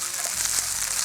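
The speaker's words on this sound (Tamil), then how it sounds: "இது ஒரு தடவை நல்லா வதக்கி விட்டுடலாம்" A spice mixture sautés in a hot pan during Indian home cooking, giving a brief, steady, faint sizzle with a few soft stirring scrapes.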